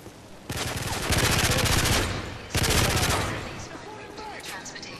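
Sustained bursts of automatic weapon fire in Call of Duty: Modern Warfare 3 come in two long, loud volleys separated by a short pause, fading at the end.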